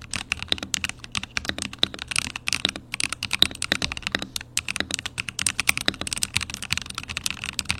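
Rapid typing on an Asus ROG Azoth mechanical keyboard, crisp clacky keystrokes in a steady irregular stream, close up with no voices.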